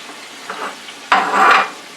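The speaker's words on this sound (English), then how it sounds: "And the cut up half a green pepper cut up. And drop that in." Cut-up green pepper dropped into a pan of frying sweet potato home fries, a soft stir followed by a sudden, louder burst of close sizzling that swells and then eases off.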